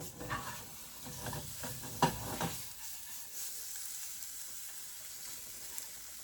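Tortilla pieces for chilaquiles fry and get stirred in a pan, with a soft steady sizzle and scraping at first, fading to a quieter background sizzle, close by with no talking.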